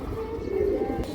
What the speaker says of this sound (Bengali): লাল মাকড়া মুসলদম ফ্রেশ কবুতর